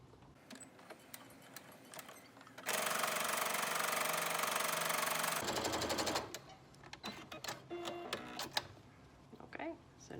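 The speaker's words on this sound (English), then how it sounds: "we're just going to do straight stitch all the way across" A sewing machine runs a straight stitch across a pleated fabric mask in one loud, continuous whir of about three seconds, surrounded by softer handling clatter and brief clicks, with a person talking nearby.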